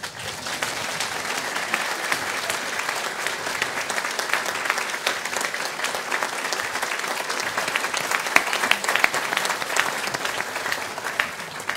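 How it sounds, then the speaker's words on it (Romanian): Sustained applause fills a church during a solemn feast-day Divine Liturgy at Cacica, with dense clapping from the congregation holding steady and loud throughout, and no talk over it. "Hai să vă văd că aplaudați!"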